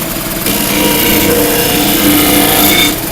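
A power sander runs in a factory workshop, smoothing the rough edges of a workpiece with a loud, steady high-pitched whine and grinding hiss that holds for several seconds.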